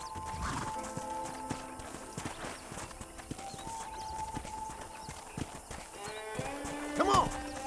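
Horse hooves clip-clop at a steady pace in the Red Dead Redemption video game, moderately loud under faint game speech, with a horse neigh near the end.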